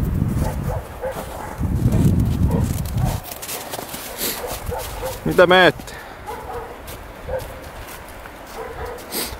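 A dog barks and whimpers indoors: broad rough barks early on, then a high whining yelp sequence, with people talking in Finnish throughout and over the animal.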